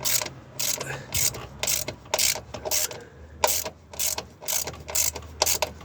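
Ratcheting clicks from a 10 mm wrench tightening a Z1 Motorsports brake master cylinder brace on a Nissan 350Z, coming in quick close bursts of sharp clicks with short pauses between them.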